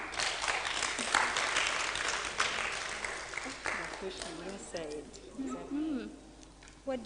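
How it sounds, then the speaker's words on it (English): An audience at a women's health gathering claps for a woman, a dense burst of applause that fills the first few seconds and then thins out as people start talking. "Clap for her."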